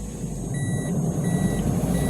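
A Toyota Vios engine with a worn bearing runs at a loud, steady low drone close up, with faint intermittent high beeps above the rumble.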